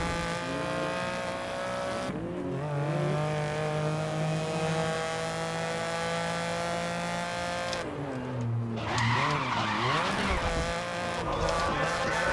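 Hot hatch race cars in the GRID racing game scream through corners with high engine whine, gear changes and sliding tire squeals, loud and continuous, with sharper skid bursts around the middle and near the end.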